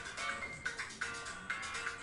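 A phone ringing in a room during a Danganronpa 2 gaming session, its ringtone chirping in short repeated bursts, moderately faint and steady across the moment, with no voices over it.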